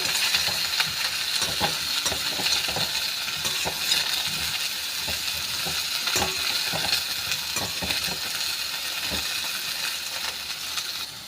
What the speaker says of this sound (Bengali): দেখুন বেগুনটা দিয়ে দিলাম এবারে বেগুনটাও একটু উলট পালট করে নিচ্ছি